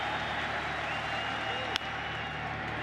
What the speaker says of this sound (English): Crowd making itself heard for the first time of many opportunities this afternoon